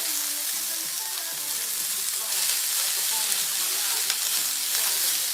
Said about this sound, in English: we're going to take these onions, peppers, and put them in here to this pan. Y'all hear it?